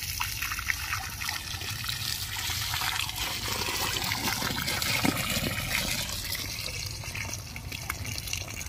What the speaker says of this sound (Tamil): இப்போ எறும்பு வடித்து எடுத்துக்கலாம்.